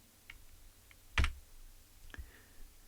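A single sharp key tap on the Z key of a homebuilt 6802 computer keyboard, one close click with a few fainter ticks around it in a quiet room.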